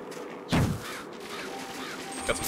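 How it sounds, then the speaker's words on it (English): Crows caw in the video game Luigi's Mansion 2 HD, a loud harsh caw near the start followed by a fainter call, over a low game background. "Got some crows."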